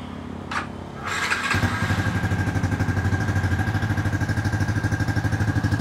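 A couple of clicks, then a Honda LCV8 motorcycle engine with an oil-loss problem cranks and fires up, settling into a loud, steady, throbbing idle close by.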